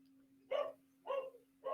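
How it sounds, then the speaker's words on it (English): A dog barks indoors while an exterminator is at the house: three short, evenly spaced barks of moderate loudness over a steady low electrical hum, with no talking. "sorry again for the barking."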